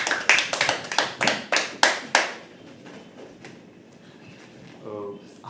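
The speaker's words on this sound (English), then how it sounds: "Keep clapping till he comes on stage." An audience at a live poetry open mic claps in a run of sharp, separate claps that fade after about two seconds, followed by quiet room tone and a brief voice near the end.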